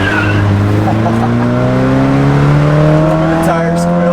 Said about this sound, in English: little bit of tire squeal.